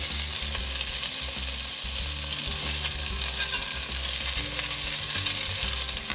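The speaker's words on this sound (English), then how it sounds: "Can you hear the sizzle?" Steady, loud sizzle of meatballs frying in a pan, a continuous crackling hiss with occasional low scraping knocks from stirring.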